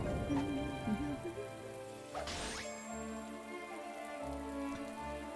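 Rain patters softly on surfaces in the video game Atelier Ryza 2, a faint, even wash of drops under quiet game music tones, with no talking.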